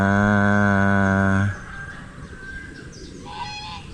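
A single loud, drawn-out goose honk up close on a farm, then fainter honks and calls from other fowl in the distance.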